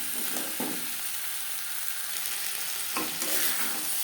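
Potatoes and spices for a vegetarian aloo dum are stirred in a pan, with a continuous gentle sizzle and a few distinct scraping strokes, and no one talking.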